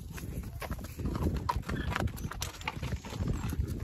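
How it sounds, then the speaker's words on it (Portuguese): A horse's hooves clip-clop on a farm ranch in Brazil, a steady rhythm of close, moderately loud hoof strikes with light background noise and no talk. "Ó, vamos pegar o cavalo."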